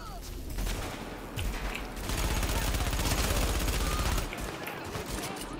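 Rapid bursts of SMG and pistol fire crackle in a shooter video game, dense automatic volleys that swell loudest in the middle and then ease into scattered shots, with a game voice faintly underneath.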